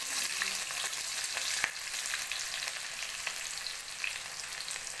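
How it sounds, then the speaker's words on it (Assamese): Chili and panch phoron spices sizzle in hot oil with a continuous, close, bright hiss dotted with small pops and crackles, and no voices. "অলপ ৰঙচুৱা পৰালৈ ভাজি থাকিম।"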